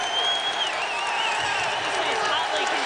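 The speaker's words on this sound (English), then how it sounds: "The Seminole crowd starting to get into it" A Florida State Seminoles basketball home crowd roars with a broad, steady wash of cheering and applause, loud and continuous throughout.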